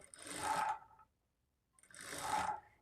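A sewing machine stitching a lining blouse at the neck with a quarter-inch margin runs in two steady bursts about a second each, separated by a short silence, close and clear.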